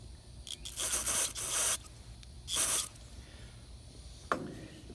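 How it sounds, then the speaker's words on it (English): Several short hissing bursts of carburetor cleaner spray into a Honda Rebel 250 carburetor, two long and one brief, close with quiet gaps between them. "whenever you put your carburetor cleaner in there and you shoot it"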